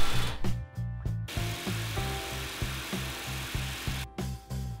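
Drill boring half-inch holes into sapele wood for a countertop, with short rhythmic bursts of whirring and chattering, close and fairly loud, broken by brief pauses.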